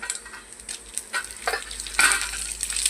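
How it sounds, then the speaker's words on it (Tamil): Fenugreek, mustard and cumin tempering in hot coconut oil, giving a close, quiet sizzle with scattered crackles and pops that grow louder and denser toward the end, with no talk. "தேங்காய் எண்ணெய் விட்டு பண்ணால் நல்லாயிருக்கும் வெந்தயம் கடுகு கொஞ்சம் ஜீரகம் போட்டுட்டு தாளிச்சிட்டு"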